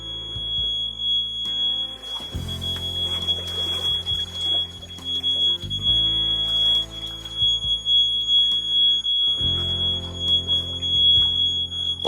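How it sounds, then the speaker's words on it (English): A steady high-pitched electronic alarm tone sounds continuously inside a flood-damaged house, under a rumbling, music-like low background that swells and drops in sections. "Is that an alarm?"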